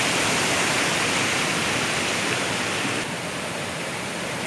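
Kaigal waterfall in Chittoor district pours with a dense, loud, constant hiss of falling water, steady and unbroken for the whole stretch.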